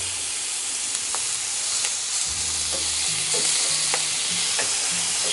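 Steaks searing on their sides in a hot pan, a steady close sizzle and spitting hiss with occasional faint ticks of fat popping, no speech.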